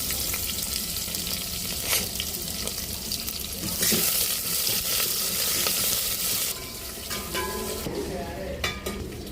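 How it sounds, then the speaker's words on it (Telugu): Onion and green chilli fry in a kadai, a steady broadband sizzle running throughout with occasional stirring clinks and a brief water-like rush near the middle, fairly loud and close, no clear talk. "తర్వాత కడాయి పోసేసుకున్నాం ఉల్లిపాయ పచ్చిమిర్చి"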